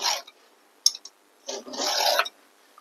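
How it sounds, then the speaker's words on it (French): A chainsaw chain clamped in a vise is sharpened with a hand file on a Dolmar saw, giving a few dry rasping strokes: one short pass, a couple of quick scrapes, then a longer grinding stroke, all close and without talk. "vous vous mettez dans un étau et alors vous commencez à affûter"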